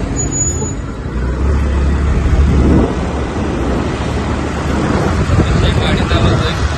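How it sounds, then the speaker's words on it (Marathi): A car being driven on the road gives a loud, steady rumble of engine and road noise, with louder low swells partway through and no clear talk. "गाडी चालवतोय."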